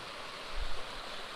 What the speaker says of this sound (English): There's another waterfall right next to the path.